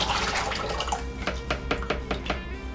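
Lye solution for soap making poured through a strainer, a continuous close splashing pour that breaks into drips and small clinks against the container toward the end, without talk.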